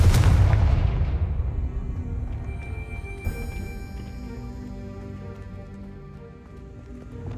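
A fiery Confringo spell blast in the video game Hogwarts Legacy opens with a loud booming explosion whose rumbling tail fades slowly. A smaller impact lands midway, over sustained musical tones, with no talking.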